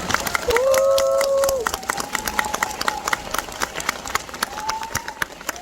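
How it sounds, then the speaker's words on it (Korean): Theater audience at a special film screening Q&A applauds the actors, scattered claps and cheers rising near the start with a brief tonal shout, then thinning into lighter intermittent clapping. "배우님들께 박수 한번 부탁드릴게요"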